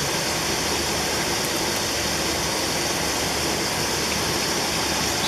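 A car engine runs steadily after a jump-start on a bad battery during an alternator check, giving a continuous broadband hum and hiss at an even level for the whole stretch, with no voices.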